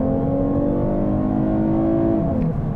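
A 2023 Lexus IS 350 F-Sport AWD with a naturally aspirated V6 accelerates hard, its engine note rising smoothly and steadily in pitch as it revs high, heard from inside the cabin with no talking.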